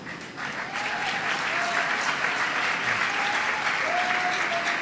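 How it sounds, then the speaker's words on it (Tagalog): A congregation at a Sunday general worship service claps together in a full, steady round of applause that swells early and holds. Faint voices are heard beneath it. "Ngayon naman, pwedeng-pwede na tayong pumalakpak."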